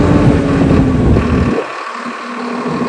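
A Swaraj 969 CRDi tractor engine holds steady at 1600 rpm, a loud, close, continuous mechanical drone whose low rumble eases partway through while the steady hum carries on.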